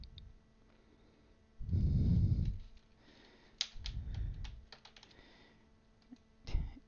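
Typing on a computer keyboard at a desktop, quiet, with short bursts of soft clicking keystrokes separated by pauses and faint low thumps, no talking.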